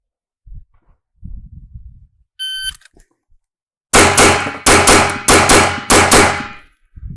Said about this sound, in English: So I'll start on the cone, at the tone, crouch down, and shoot.